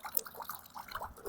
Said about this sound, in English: we came across this water fountain that's probably going to be hot spring water